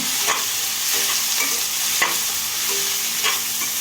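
A spoon scrapes and stirs chopped tomato sizzling in a hot pan with onion while making upma, a continuous close fry hiss broken by soft clinks of the utensil.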